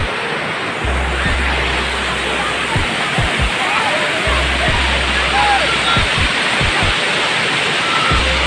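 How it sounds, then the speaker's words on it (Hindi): Steady rushing of the Amlong River in West Karbi Anglong, a continuous broadband wash of flowing water close by, with a few soft low thumps underneath. "पानी किस तरीके से बहक रहा है ये वाला।"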